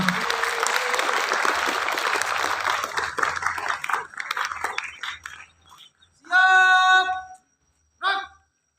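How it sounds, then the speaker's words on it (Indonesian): Crowd at an Indonesian youth pledge ceremony claps in a dense burst that thins and fades out over several seconds, followed by short sung or voiced tones near the end. "tepuk tangan untuk kita semua"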